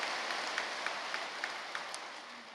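A church congregation claps for the choir, a steady wash of applause with faint rhythmic accents, moderately distant.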